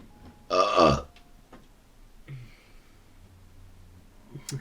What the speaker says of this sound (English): Still burping from lunch.